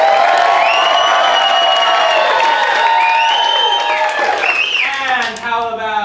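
An audience at an improv comedy show applauds and cheers, with loud sustained clapping, whoops and shouting voices filling the room.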